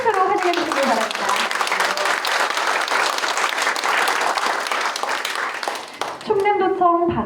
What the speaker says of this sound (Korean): 큰 박수로 환영해 주시길 바랍니다